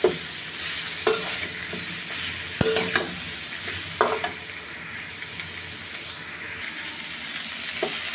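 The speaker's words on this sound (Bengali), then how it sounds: "এবার আমি একটু কাঁচামরিচ আর রসুন কুচি দিয়ে দিলাম। এটাও আমি আরেকটু করে ভেজে নেব।" Cauliflower, onion, green chili and garlic frying in a pan, giving a continuous close sizzle broken by repeated sharp scrapes and clanks of a spatula stirring, alone without any voice.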